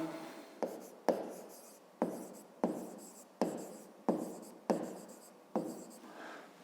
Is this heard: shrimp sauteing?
no